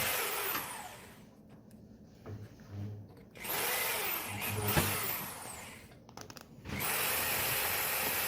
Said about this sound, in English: It's just a matter of drilling a few holes.